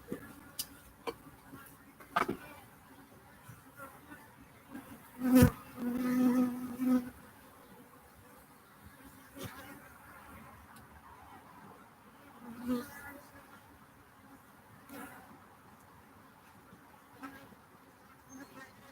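Honey bees buzz steadily around a hive, a faint continuous insect drone with a few louder close passes, while brief bits of speech are heard now and then.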